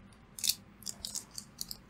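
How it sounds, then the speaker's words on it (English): Scissors cut open a cardboard box of trading cards, giving a sharp snip followed by several quieter crisp snips at a steady pace, close by in a quiet room. "Got my scissors here because I want to open this up"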